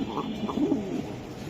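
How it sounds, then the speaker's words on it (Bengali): Soft, low coos of racing pigeons repeat a few times against a steady background hum, gentle and fairly close. "এই যে কোয়ালিটি ফুল কবুতর"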